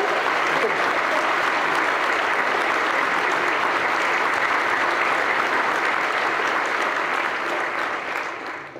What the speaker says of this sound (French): Notre belle chorale, hein, on peut les applaudir